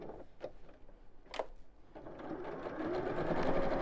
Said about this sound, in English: I'm going to top stitch just around those bottom 3 sides because I think it looks nice